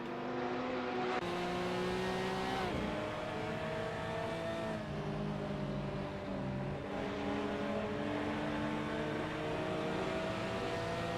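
Several race cars in a GT4 racing game circuit at Barcelona, engines droning and revving steadily in a dense pack, with pitch shifts as they change gear and jostle for position, loud and continuous throughout.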